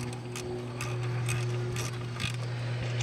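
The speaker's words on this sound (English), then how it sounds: "And we'll go ahead and tighten this bleeder up. And it's also an 8mm wrench or a deep well socket." Ratchet socket wrench clicking as it tightens an 8mm brake bleeder screw on a rear wheel brake cylinder, several quick bursts of ratcheting close by over a steady low hum, with no talk.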